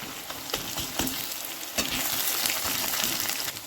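Ginger garlic paste frying in a pan gives a loud, continuous sizzle, with a few soft stirring knocks and a brief flare of crackle partway through, heard up close without speech.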